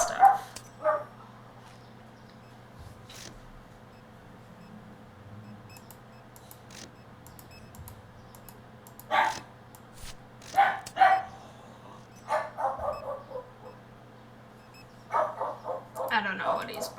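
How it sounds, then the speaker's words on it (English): A dog barks indoors in scattered short bursts, some yips and whimpery notes, loud at moments and quieter at others, over a steady low hum. "I don't know what he's barking at."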